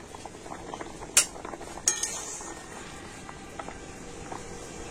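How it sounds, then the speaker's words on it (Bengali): A lid lifts off a pot of boiling pumpkin with a couple of sharp metallic clinks, followed by a soft bubbling of the simmering water. "এবার আমি ঢাকা খুলে দেখে নেব কুমড়ো সিদ্ধ হলো কিনা"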